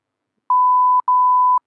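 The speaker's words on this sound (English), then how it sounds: "beep him out" Two loud, pure electronic bleep tones, each about half a second, back to back with a tiny gap, in silence.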